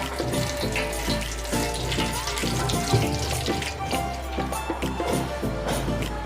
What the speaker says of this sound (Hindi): उबालने के बाद हम इसे धो रहे हैं, वॉश कर रहे हैं।